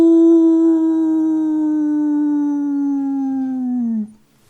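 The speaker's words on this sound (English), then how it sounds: "A long, faint wolf howl wakes him." A single long wolf howl holds a steady pitch for about four seconds, then drops and cuts off. It is clear and sustained, with no voices over it.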